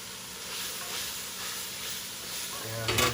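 Cabbage and mushrooms stir-frying in a smoking hot cast iron pan, a steady close sizzle and hiss with soft stirring scrapes, swelling near the end as the food is tossed.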